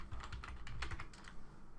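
Quick, uneven clicks of keys being typed on a computer keyboard, close up and steady throughout, with no voices.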